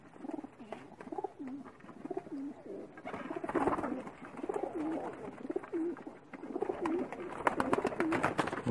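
Pakistani high flyer pigeons coo repeatedly in soft, rolling, low-pitched calls, several birds overlapping at close range against an outdoor background with occasional chirps.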